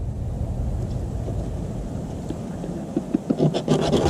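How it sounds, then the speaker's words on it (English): Garden seeds rolled and rubbed across sandpaper to break their shells, a steady close scraping rasp that turns into quicker, sharper gritty strokes near the end. "And you just roll them across the sandpaper."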